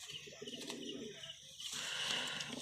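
Pigeons of foreign and local bloodlines coo softly and nearby, with low murmuring calls followed by some brighter rustling or chirping toward the end.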